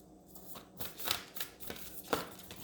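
Close, quiet shuffling of stiff oversized tarot-style cards, a few papery riffles and slaps in quick bursts, with no speech.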